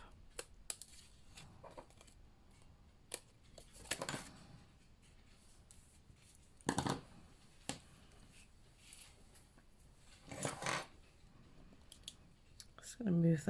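Paper being trimmed for a papercraft project: a few sharp crisp cutting and slicing bursts stand out among soft rustles and handling noises, close and fairly quiet.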